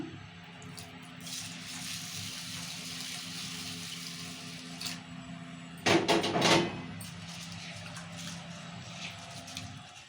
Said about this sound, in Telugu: ఇప్పుడు బియ్యం కడుకుందాము